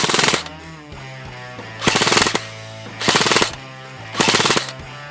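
G&G CM16 Raider DST long-barrel airsoft rifle fitted with a high-speed EVIKE Tornado motor, firing BBs in four loud, rapid full-auto bursts, each roughly half a second long, separated by brief gaps.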